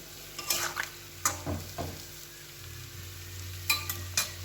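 Potatoes and jackfruit frying in a pan, a soft continuous sizzle punctuated by several scraping stirs of a utensil against the pan, close up, with no talk.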